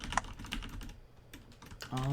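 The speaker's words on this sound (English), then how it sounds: "I was typing out the word duck" Typing on a computer keyboard, quiet quick key clicks in short bursts, with people talking over it at the start and end.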